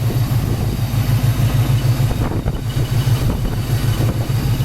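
A 1974 Pontiac GTO engine idling with a steady, pulsing low rumble and a rhythmic throb, loud and close, with some wind noise over the microphone.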